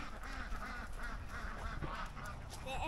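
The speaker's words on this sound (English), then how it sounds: "Look at all these amazing chickens and ducks." A crowded poultry pen of ducks and geese on a farm keeps up overlapping quacks and honks, a continuous busy chatter of many birds at close to middle distance.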